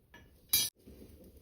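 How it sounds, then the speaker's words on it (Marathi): A metal kadhai set down on a wood-fired clay stove, one short sharp metallic clank amid quiet background. "चुलीवरती कढई ठेवून घेऊ."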